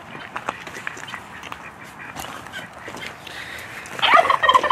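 Guinea fowl call in short, rough bursts, a dense cluster of harsh, loud squawks crowding in near the end among other farm birds.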